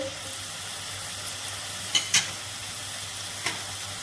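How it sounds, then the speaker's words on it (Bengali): Taro pieces stirred in a little hot oil, giving a faint steady sizzle with a few soft spoon scrapes against the pan, no voices. "কচুটাকে অল্প তেলের মধ্যে নাড়াচাড়া করে নিয়েছি"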